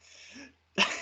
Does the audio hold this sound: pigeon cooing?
no